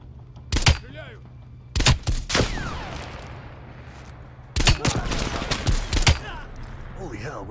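Bursts of gunfire from the video game Call of Duty Cold War: several loud, sharp shot clusters with echoing tails, spaced over a few seconds amid low ambient rumble, with no voices.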